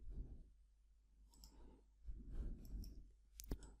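Computer keyboard keys tapped for a copy and paste shortcut during design work in Inventor 2021, a few quiet clicks spread irregularly across the stretch, faint and close, without talk.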